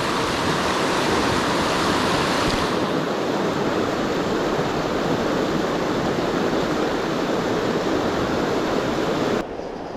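Fast-flowing river water rushing through a trout pool, a steady loud broadband wash with no pauses, close to the microphone.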